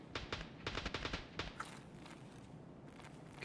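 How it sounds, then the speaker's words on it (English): Muffled bursts of automatic gunfire from an upper floor in Escape from Tarkov, rapid clustered shots that sound distant and faint, followed by a quieter stretch with light footstep-like noises. "can hear there's people upstairs shooting"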